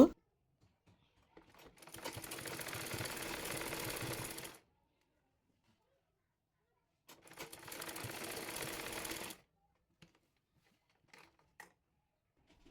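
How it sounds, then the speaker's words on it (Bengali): A sewing machine stitches lace onto the lower edge of a salwar in two separate bursts of rapid, even mechanical whirring, each a few seconds long, close and clear with quiet pauses between. "পর নিচের অংশে লেস সেলাই করে নেব"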